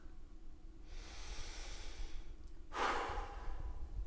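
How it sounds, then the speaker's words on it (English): A patient takes slow, deep breaths in and out through the mouth during a posterior chest examination, heard as two long breathy airflow sounds, the second stronger and closer, with quiet pauses between them. "can you take some deep breaths in and out through your mouth"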